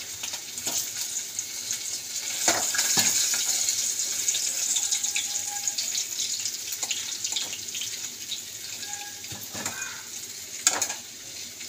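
A fish head fries in hot oil with a steady close sizzle, broken by occasional clinks and stirring scrapes, and a run of water from a tap in the background.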